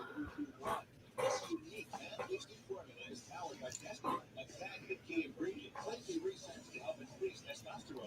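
A dog barks and yips in short irregular bursts from another room, muffled and fairly faint, mixed with household noise and people talking nearby.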